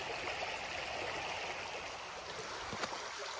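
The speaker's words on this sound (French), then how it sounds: "C'est une petite rivière ou un cours d'eau." A small river or stream running full after heavy rain, its steady broadband rush of flowing water continuous and fairly close, with no voices over it.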